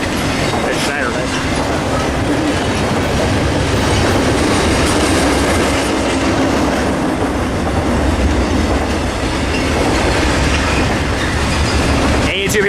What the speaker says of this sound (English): And to no surprise, it is a short train, actually. Here comes the end of it.